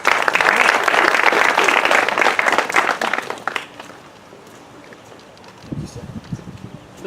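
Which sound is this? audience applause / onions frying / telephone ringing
audience applause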